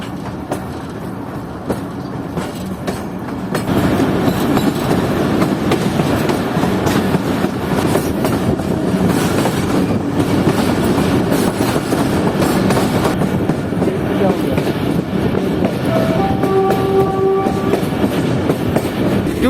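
The Jaffer Express rolls steadily downgrade out of Quetta toward a tunnel, a loud, continuous rumble of wheels and carriages heard from on board, swelling slightly after a few seconds, with a brief horn note near the end.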